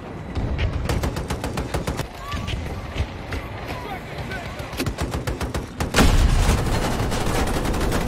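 Machine gun fire from vehicle gunners in Battlefield 2042 on the reworked Hourglass map, rapid bursts of shots in a busy battle, heavier and louder toward the end.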